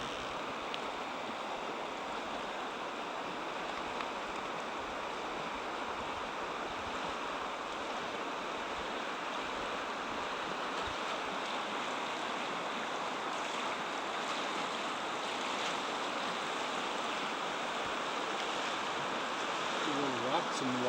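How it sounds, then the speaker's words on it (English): Rushing water of small river rapids on a Noatak River float trip in Gates of the Arctic, a steady broadband roar with wind buffeting the microphone throughout. "We're finally seeing some little tiny rapids."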